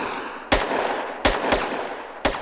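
Gunfire in the game SA-MP: four sharp, loud shots spaced irregularly over a couple of seconds. Each is a crisp crack that decays quickly over faint background noise, with no talking.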